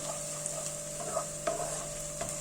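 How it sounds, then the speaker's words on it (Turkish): Tomato paste sautéing with vegetables in a pan gives a faint, steady sizzle under a constant hum, with occasional soft stirring clicks and no voices. "Salçayı da biraz kavuralım."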